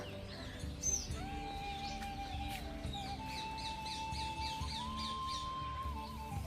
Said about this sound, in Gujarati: પક્ષીઓનો મધુર કલરવ પણ સંભળાઈ રહ્યો છે